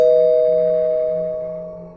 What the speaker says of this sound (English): Then suddenly, the gate bell rang again.